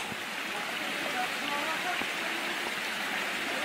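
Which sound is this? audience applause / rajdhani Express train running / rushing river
rushing river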